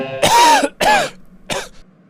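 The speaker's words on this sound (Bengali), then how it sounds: "আজ একটু কেশে দেখান তো, দেখি তো আপনার কাশিটা আজ কেমন আছে।" A patient coughs on request for a doctor: three loud, close, rasping coughs in quick succession, the last one shorter, with silence between and no talk.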